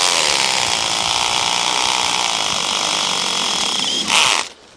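A power drill with its clutch engaged drives screws, whirring steadily at close range with a high motor whine, then briefly surges louder before cutting off near the end.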